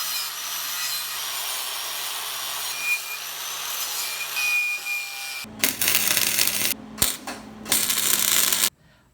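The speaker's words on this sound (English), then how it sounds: "First things first, we need to weld this to the go-kart" Welding a motor mount plate onto a cheap go-kart frame for a 208cc engine install, a steady hiss and crackle of arc welding up close, then louder bursts of crackling broken by short pauses.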